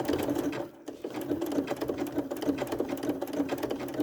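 A sewing machine stitches a quilt block with a steady, fast mechanical whirr, pausing briefly before running on continuously, close and loud.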